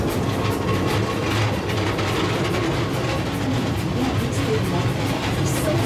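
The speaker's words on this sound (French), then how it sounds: "le bruit que vous entendez est le son typique d'un train à vapeur." Steam train at a zoo park pulling wagons along its rails, a steady loud rumble with faint rhythmic clatter of wheels, with indistinct voices mixed in.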